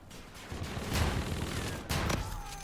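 Shotgun firing slug rounds in Call of Duty, with two heavy blasts roughly a second apart over a dense wash of game battle noise and background rumble.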